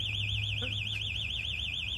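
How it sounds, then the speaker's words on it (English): A burglar alarm goes off in a British sitcom street scene, a loud, rapidly warbling electronic siren that wails continuously, with faint background sounds underneath. "I'll give him bloody burglar alarms."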